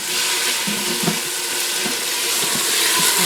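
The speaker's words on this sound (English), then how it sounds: "now we're just getting that sizzle on, get the onions to be a little translucent" Steady loud sizzling of garlic and onions in a hot Instant Pot, with occasional stirring scrapes beneath the continuous hiss.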